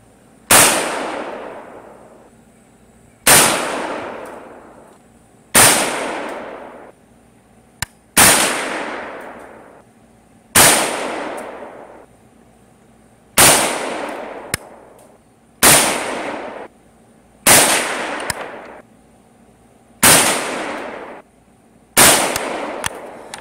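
Single AK74 rifle shots fired at a range with 7N6, steel-cased FMJ and Hornady VMAX ammunition, about ten loud sharp reports spaced two to three seconds apart, each with a decaying echo, no talking.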